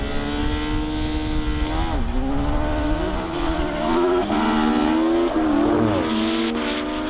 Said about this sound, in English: Listen to that engine revving.